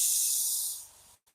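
Air from a silent air compressor used for spray painting in a CNC workshop, a close, steady hiss that fades and cuts off, followed by a tiny puff.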